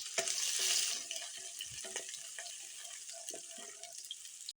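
Garlic sautéing in hot cooking oil for a Filipino ginisang patola dish gives a steady, close sizzle and crackle. Occasional light clinks and stirring sounds run under it, and no one speaks.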